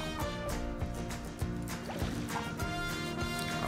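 Water being added in the Planet Coaster video game, a steady synthesized liquid rush and sloshing with faint splashy drips, continuous and moderately loud.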